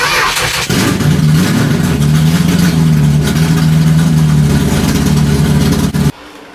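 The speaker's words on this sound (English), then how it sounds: "Drivers, start your engines!" Race car engines in a racing video game fire up and hold a loud, steady revving drone for about six seconds, then cut off abruptly at the end; no one speaks over it.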